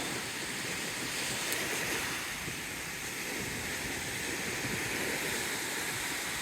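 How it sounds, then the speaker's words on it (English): Small sea waves wash steadily onto a South China Sea beach in Vietnam, a continuous broadband surf hiss with gentle rolling swells and some wind noise, close and even throughout with no voices. "Just small little waves, perfect for swimming or just bobbing about."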